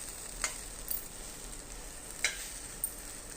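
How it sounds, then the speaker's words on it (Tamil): Potato pieces for a Tamil potato fry sizzle steadily as they roast in a pan, a soft continuous hiss broken by a few sharp clinks of a spoon or spatula, with no talking. "இப்போ பாருங்கள், நல்லா ரோஸ்ட் ஆகி வந்துட்டுருக்கு"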